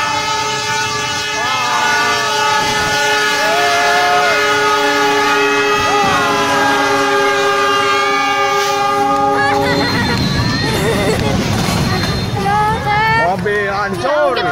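A train horn blares long and loud as a train passes at close range, followed by a harsh crunching clatter as a car is crushed, with people shouting over it.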